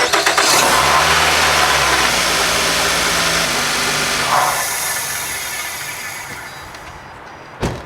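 A 2010 Nissan Rogue engine cranks and catches after an oil change, then settles into a steady idle that gradually quiets, ending with a short thump.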